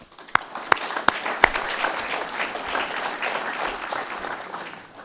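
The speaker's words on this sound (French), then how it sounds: "On peut les applaudir aussi." Audience applause at a French dairy producers' federation assembly opens with a few sharp, close individual claps, then swells into steady, moderately loud clapping from the room that continues evenly before tapering off.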